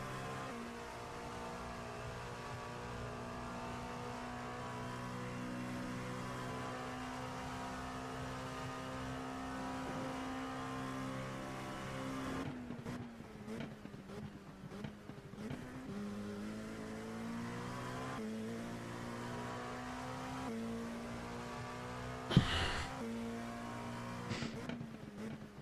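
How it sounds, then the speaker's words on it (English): An Alpine LMP2 prototype race car in a racing video game at Bathurst drones at high revs, the engine note rising and falling through gear changes and braking, with a sharp burst of tyre noise near the end and no talking. "This little Alpine LMP2 is moving."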